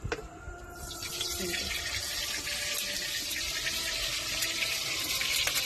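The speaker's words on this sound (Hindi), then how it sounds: "कढ़ाई हमर देख लिए गरम हो गया और अब हम इनमें तेल डाल दो" Oil poured into a hot wok on a stove sets off a bright, steady sizzling hiss after a brief pour, continuing evenly at close range with no talk.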